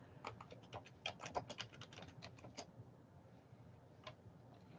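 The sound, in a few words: typing a message on a keyboard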